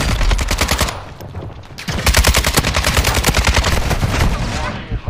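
Rapid automatic gunfire rattles through a shooter video game, a dense burst of fast shots after a short pause, loud and continuous to the end, with faint voices mixed in.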